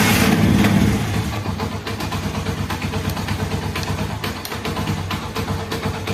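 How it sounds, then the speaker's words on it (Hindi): A Honda 70 motorbike engine runs in a steady, close putter after a brief louder burst at the start, with no voices over it. "आपके बाइक पहले स्टार्ट करते हैं हम"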